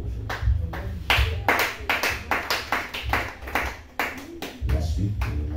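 A congregation claps together to acclaim the Lord at a church gathering, a fast run of sharp, close hand claps kept up over voices and steady low music.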